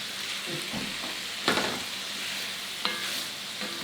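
Garlic sizzles in a pan while being stirred, a steady close frying hiss broken by a few sharp scraping clacks of the utensil, with no talking.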